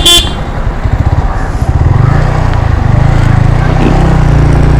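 Busy Indian road traffic with motorcycles and horns, motorcycle engines buzzing close by and a sharp horn blast at the start, then a steady engine drone throughout.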